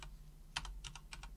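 A command is typed on a computer keyboard while setting up a Raspberry Pi 4, giving a handful of quick, close key clicks in short bursts over a faint hum.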